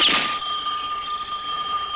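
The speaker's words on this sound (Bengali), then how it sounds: "এখন আবার কে ফোন করলো?" A telephone rings with a single shrill, bright electronic burst at the start, followed by a steady high ringing tone that continues over a noisy room background.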